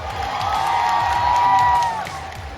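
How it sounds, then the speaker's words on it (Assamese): An audience at a stage event cheers and applauds to welcome a woman to the front. A sustained crowd roar carries a long, wavering high whistle or ululation that fades out near the end. "বাইদেউৰ কাৰণে এটা হাত চাপৰি হ'ব লাগে।"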